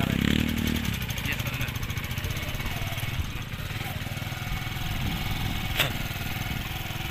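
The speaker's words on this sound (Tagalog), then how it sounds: "Ngayon ka lang ba nakasakay ng motor?" Motorcycle engine running steadily while riding, a continuous mid-pitched drone with wind rush throughout, close and fairly loud, with a faint voice briefly near the start.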